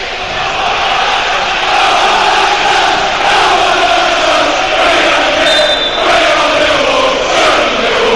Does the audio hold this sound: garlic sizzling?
no